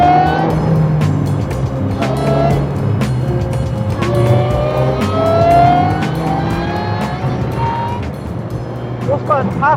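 Supercharged Ariel Atom 300 engine driving on an open road, a loud continuous drone with rising and falling revs and gear changes, heard close up while someone talks over it throughout.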